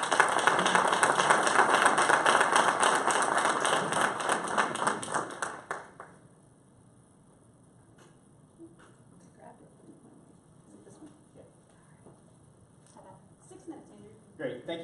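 A crowd at a morning speaking event applauds to welcome a presenter, a dense, loud burst of clapping for about six seconds before it fades into quiet room noise.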